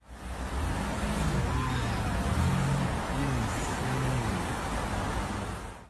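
Steady, loud rush of city traffic with cars passing close by, a continuous broadband roar that stays level throughout.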